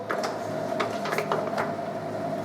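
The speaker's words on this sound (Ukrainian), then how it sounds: "ще рукою покручу. Он маховик пішов" A Reinecker gear hobbing machine's flywheel is turned by hand, setting off a steady mechanical whir with a faint tone and repeated light clicks and ticks from the gearing.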